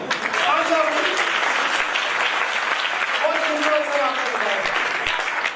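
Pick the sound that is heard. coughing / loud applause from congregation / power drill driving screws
loud applause from congregation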